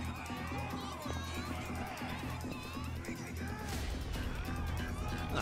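A dense crowd in the street of the video game Yakuza: Like A Dragon, with a steady murmur of many voices and movement, close and continuous, with people talking over it.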